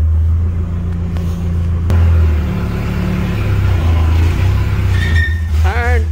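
Manual Nissan S13 240SX engine rumbling and lurching as the driver stalls it, a heavy low drone that shifts abruptly partway through, with voices talking inside the car.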